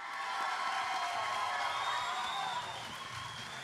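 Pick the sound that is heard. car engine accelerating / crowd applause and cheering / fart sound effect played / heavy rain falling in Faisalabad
crowd applause and cheering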